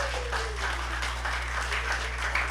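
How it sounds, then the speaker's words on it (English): Attendees at an AI and DePIN summit in Manila applaud the guest speakers, a steady spread of clapping from a sizable crowd, heard in a large room with a constant low hum beneath. "A big round of applause for our guest speakers!"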